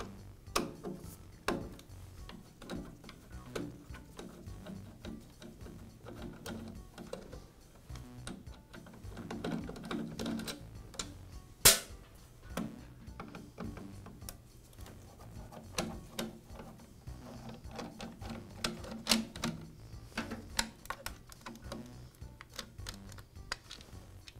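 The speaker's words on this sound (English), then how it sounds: "I'll begin by removing the old switch from the dust collector." Small metallic clicks and ticks from a screwdriver backing out the two screws that hold the old switch on a Jet dust collector, scattered and fairly close over a low background hum, with no talking.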